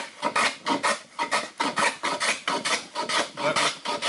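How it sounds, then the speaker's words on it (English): A coarse hand tool rasps rhythmically across wood, taking thick shavings in a steady run of about a dozen close, rough, scraping strokes with no talking. "We're making some pretty thick shavings here with this"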